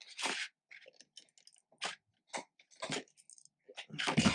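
A dog crunching on a bone indoors, heard as scattered short crunchy bursts with gaps between them, moderately close and fairly faint.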